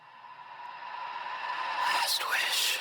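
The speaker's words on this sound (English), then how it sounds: "I have this reverse swell that I created with that whisper" A reverse swell made from a whispered vocal, a breathy airy wash that rises steadily in loudness and brightness over a few seconds, heard alone.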